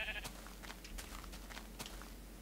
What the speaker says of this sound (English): Oh, there's just sheep everywhere.